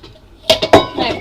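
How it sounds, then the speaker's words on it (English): Metal or glass mixing bowls knocked together while preparing chicken parmesan, two or three sharp clinks up close followed by a short ringing rattle, no talking. "I just use mixing bowls."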